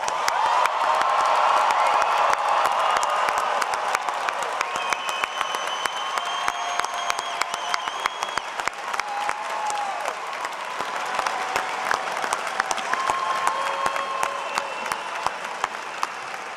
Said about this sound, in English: Please give the class of 2023 a huge congratulatory round of applause.